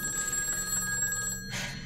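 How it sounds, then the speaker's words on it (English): A telephone in a video game rings steadily with a bright, sustained electronic tone, near and fairly loud, heard with no talking. "I'm gonna unplug the phone."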